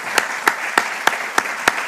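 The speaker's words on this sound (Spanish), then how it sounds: "quiero en realidad un aplauso a Mario, porque ha sido" Applause from an audience at a public tribunal session in Guadalajara, heard as a series of evenly spaced, distinct claps about every third of a second, fairly close and clear over a quiet room.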